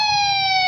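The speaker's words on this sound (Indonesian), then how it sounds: "ambulans ambulan sudah datang" An arriving ambulance siren sounds as a loud, steady, piercing tone that holds without pause for a brief moment, close and dominant with no other sounds around it.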